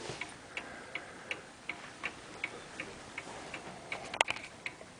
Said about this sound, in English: Also working on this session clock, very similar